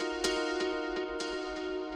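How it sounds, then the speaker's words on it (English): Synth stab chords with delay echoes and no reverb in a dub techno track, a sustained tonal chord pad with repeating echoed hits roughly every 0.35 seconds, dry and steady. "Here's without it. You can hear just the delay."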